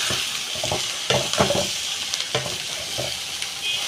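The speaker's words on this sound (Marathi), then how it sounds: "कोबीला परतूया आपण।" Shredded cabbage for bhaji sizzles and fries in a hot pan while a spoon stirs it, giving scraping strokes and soft clinks over a constant crackle.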